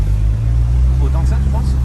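Engine drone from a convoy of Porsche cars rolling through Place Vauban, a loud steady low rumble heard from close by, with people talking over it.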